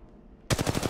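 A sudden burst of rapid automatic gunfire in Apex Legends Mobile, about eight close, loud shots in quick rhythm breaking in after a quiet start.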